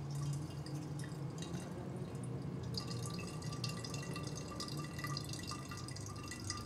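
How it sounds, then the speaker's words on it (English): Fuel trickles and drips steadily from the drain valve on the carburetor bowl of a Kawasaki Z400 motorcycle, a faint, continuous liquid flow with no talking. "that will open a little valve on the bottom that will drain all the fuel that's inside your carburetor bowl"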